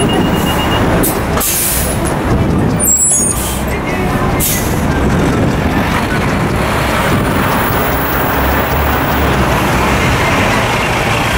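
An MTA BM3 express bus running from Brooklyn to Manhattan pulls to a stop, heard from inside with a steady loud roar of road and engine noise and a few sharp bursts of air-brake hiss early on.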